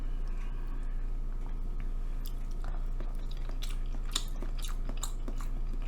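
Close crunchy chewing of imitation crab stick dipped in spicy sour sauce, a run of soft bites and mastication sounds over a steady low background hum, with no talking.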